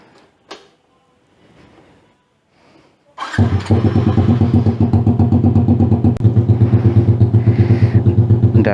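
A 2023 Suzuki motorcycle with an SC Project exhaust starts up after a few quiet moments. It then roars into a loud, close, throbbing idle with repeated rev blips.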